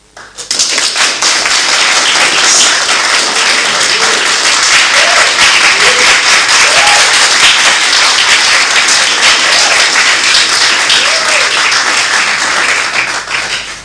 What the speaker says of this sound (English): Let's give a round of applause to the incoming First Lady.